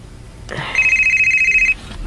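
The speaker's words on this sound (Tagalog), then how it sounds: "Oh, ang akong cellphone." A cellphone rings indoors in a radio drama, a steady electronic tone lasting about a second after a brief rustle, sounding close and clear with no talk over it.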